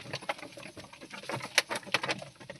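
Pigeons pecking and shuffling at scattered feed, a quick irregular patter of close taps and flutters with a soft coo, no talking.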